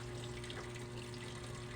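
Water runs steadily from a Whirlpool washing machine being repaired after a board replacement, a faint continuous gushing with an even hum under it and no talking.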